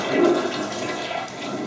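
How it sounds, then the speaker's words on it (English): A household toilet being flushed again while being unclogged, a close, steady rush of swirling water that swells early and then settles into a continuous gurgling drain. "So you can flush it again"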